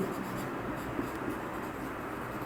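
Chalk or pen writing out an equation on a board during an engineering lecture on centrifugal pumps, a steady faint scratching texture that runs continuously with no talk.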